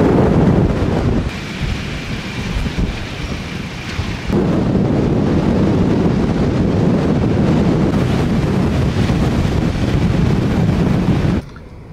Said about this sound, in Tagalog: Solid yung hangin ng lakas.